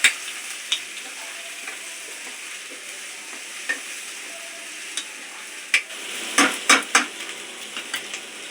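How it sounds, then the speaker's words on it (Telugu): Ginger garlic paste fries in hot oil for a home-style fish curry, giving a steady sizzle with scraping and clinking from stirring that grows busier toward the end. "ఇట్లా ఈ అల్లం వెల్లుల్లి పేస్ట్ వేస్తే బాగా ఫ్రై అవుతుంది అన్నమాట."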